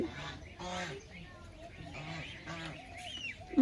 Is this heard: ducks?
yes